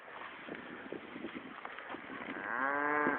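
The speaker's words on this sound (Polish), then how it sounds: "Tak, ryczy krówka" A cow moos in an open field in the countryside, a long, fairly close low call swelling toward the end over steady outdoor background noise.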